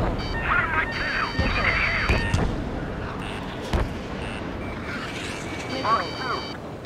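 A missile launches in the Ace Combat 7: Skies Unknown flight combat game, with a couple of sharp whooshing bursts among engine roar and radio chatter voices over a steady noisy backdrop.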